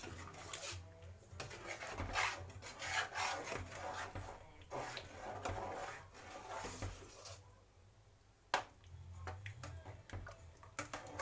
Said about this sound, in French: On va mélanger tranquillement sans se brûler.